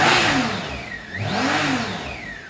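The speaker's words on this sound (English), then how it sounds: "Just give it a couple of revs for you." A 2013 BMW K1600GTL motorcycle's six-cylinder engine revved twice from idle, each blip rising sharply in pitch and falling back, loud and close with no voices.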